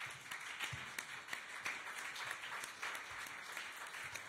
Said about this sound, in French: Merci beaucoup Bénédicte, je pense qu'on peut applaudir si...